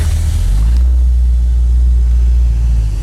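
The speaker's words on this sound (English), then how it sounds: "It's got a nice dual exhaust sound for stock 350, huh?" A 1972 Chevy Nova's stock 350 V8 idles with a deep, steady low rumble through its dual exhaust, loud and close, with no talking.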